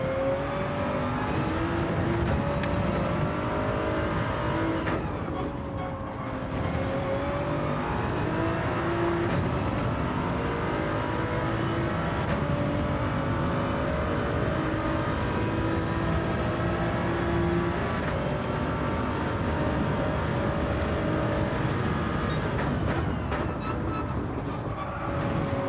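A Toyota Supra race car engine in a racing video game drones steadily under load, its pitch climbing and then dropping at several gear changes taken early, loud and continuous with no talk.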